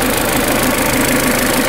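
A car engine idling steadily after timing-belt tensioner work, a loud continuous mechanical hum with a faint rhythmic knock and no talking.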